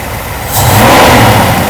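A Mercedes-Benz W126 560SEC, just back from fuel distributor repair, idles with a steady engine rumble, then its revs climb and hold in a loud, close, even roar.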